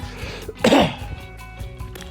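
One person gives a single sharp, harsh cough, close and loud, between quieter stretches of breathing and low background sound.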